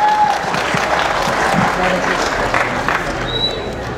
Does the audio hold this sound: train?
no